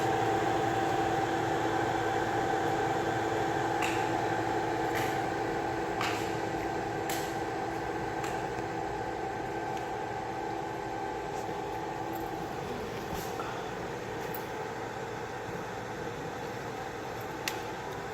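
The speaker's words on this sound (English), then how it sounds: "Now it starts blowing hot air and it gets everything all hot." A hot air rework station blowing heated air onto an LED board during repair, a constant soft hiss and hum held at even level throughout, with occasional faint clicks.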